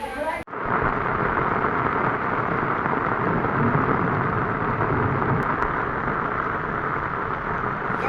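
Torrential rain lashes down in the Haveli Ghanpur area of Medak district, a loud, dense, continuous roar of falling water that starts abruptly and holds steady throughout.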